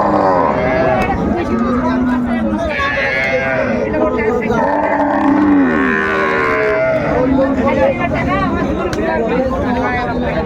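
Dairy cow and calf at a busy cattle market (Ambari haat): several drawn-out moos sound amid thick crowd babble, with nearby voices talking continuously over them.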